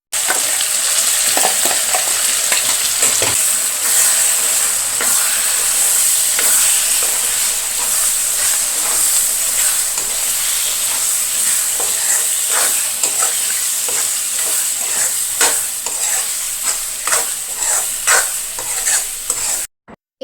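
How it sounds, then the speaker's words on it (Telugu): Tempering sizzles and crackles in a hot pan as ivy gourd chutney is fried and stirred, a close, continuous hissing fry with scattered pops and scraping stirs throughout. "దొండకాయ పచ్చడిని ఎంత మంచిగా ఫ్రై జేస్తున్నానో"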